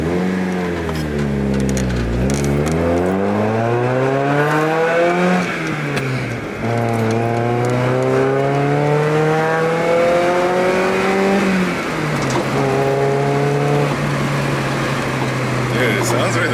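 A 2022 Subaru BRZ on a race track, its engine loud and close, revving up and down through repeated gear changes in rising and falling sweeps, with people talking over it.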